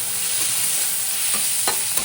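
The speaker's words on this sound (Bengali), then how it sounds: "এবার পেঁয়াজটাকে নরম হওয়ার জন্য, একটু ভাজা ভাজা হওয়ার জন্য ছেড়ে দিতে হবে।" Onions with turmeric sizzle steadily in a pan while poha is being made, a close, bright frying hiss broken by a few short stirring scrapes, with no voices.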